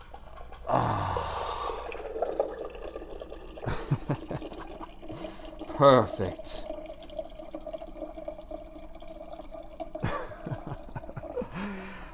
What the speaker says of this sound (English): Okay, we got a full jug of water.